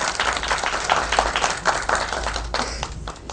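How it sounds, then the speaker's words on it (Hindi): Loud, dense audience applause and clapping at a movie trailer launch event, sustained and close, with a faint voice underneath. "तालियां बनती हैं।"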